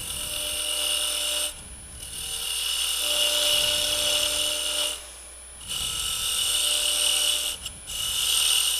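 A wood lathe spins near 2,200 rpm while a small tenon is turned on a lidded box, a steady whirring hum broken by repeated bursts of scraping and cutting as the tool contacts the wood.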